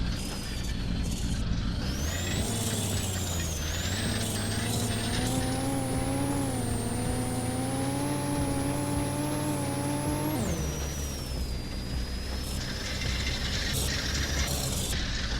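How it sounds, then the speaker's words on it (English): Car with popped tires rolling on rims in GTA San Andreas with softbody physics mod, a continuous grinding, scraping rumble with rising and falling tonal whine, a sharp pitch drop partway, steady and loud. "You see the tire sound in the truck is different."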